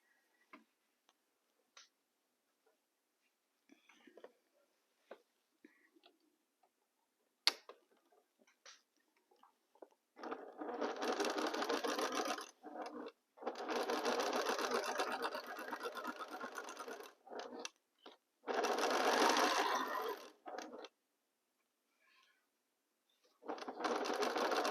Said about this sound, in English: And now it's time to continue sewing.